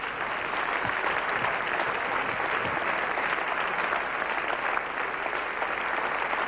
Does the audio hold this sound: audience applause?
yes